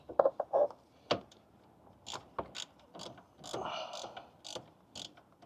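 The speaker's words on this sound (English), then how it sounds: "You're gonna take a short 10," Ratchet turning a short 10mm socket to loosen an intake clamp on a 2025 Toyota Land Cruiser 250 turbo during a K&N 77 Series intake install, with several bursts of quick clicking and a short ratcheting run, close and fairly loud.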